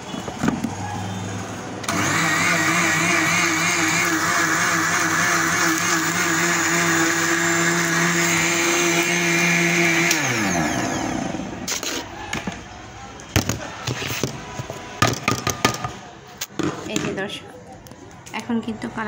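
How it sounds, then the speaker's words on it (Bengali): A kitchen blender whirs loudly and steadily for about eight seconds while blending homemade custard powder, then winds down, followed by clattering and handling noises. "এখন এটাকে আমি ব্লেন্ড করে দিচ্ছি।"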